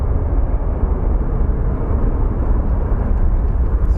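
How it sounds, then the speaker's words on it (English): A Boeing 737 taking off at Phoenix Sky Harbor airport gives a loud, continuous low roar of jet engines that stays steady and dense for the whole stretch, with no talking. "we're going to watch this 737 takeoff"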